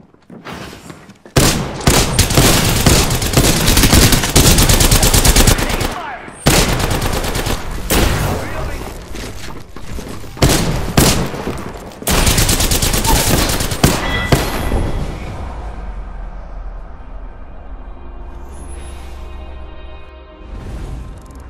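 Enemy gunfire in Apex Legends rattles in long, loud automatic bursts broken by brief pauses, close and harsh, then fades into a quieter ringing tail with scattered faint shots.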